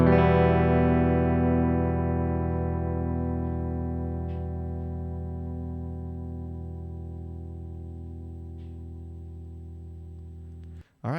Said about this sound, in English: now we're going to listen to the brass nut